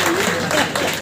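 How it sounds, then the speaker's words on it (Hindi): Crowd at a press gathering in Rampur applauds for the district magistrate, a short burst of dense clapping that cuts off abruptly at the end. "एक बार जोरदार तालियां डीएम साहब की तरफ से।"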